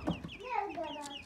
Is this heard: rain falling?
no